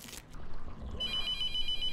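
A telephone rings in the horror game The Mortuary Assistant, a shrill electronic trill starting midway and sustaining steadily after a few quiet thumps and footstep-like knocks.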